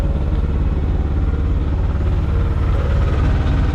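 The engine of a Shannon 28 sailboat motors steadily at 2,000 RPM, a loud, even, throbbing drone with rapid rhythmic pulsing, close up and alone without talk.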